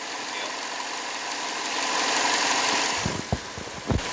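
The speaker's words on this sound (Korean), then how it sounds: "엔진룸 상태 깔끔하고 바로 엔진 소리 한번 들려드릴게요." A low-mileage Chevrolet Malibu LTZ engine idles steadily with a broad, even hum, followed near the end by a few low thumps and knocks.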